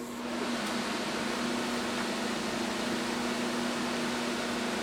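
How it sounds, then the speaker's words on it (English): A Lasko 4930 high velocity blower fan runs on its high setting, giving a loud, steady broadband rush of air with a constant low motor hum throughout. "And here goes the Lasko high velocity blower on high."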